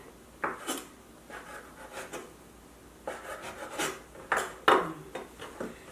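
A knife cuts through fish cake on a board for gimbap, giving a series of short, close scraping and tapping cuts at an uneven pace with no voices.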